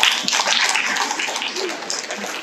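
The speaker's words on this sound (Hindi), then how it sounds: "जोरदार तालियां बजनी चाहिए।" An audience claps steadily through a calendar and magazine release at an Ayurveda congress inauguration ceremony, a dense, even patter of many hands that fades slightly toward the end.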